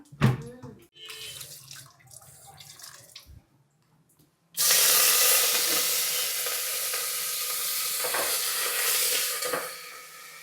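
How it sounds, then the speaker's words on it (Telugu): Mustard seeds and cumin with a little urad dal hit hot oil, bursting into a loud, steady sizzle and hiss after a few seconds of quieter clattering and handling sounds. "కొద్దిగా ఆవాలు కొంచెం జీలకర్ర అంతే చిటుకు అంతే ఇంకా వేగాలి కదా"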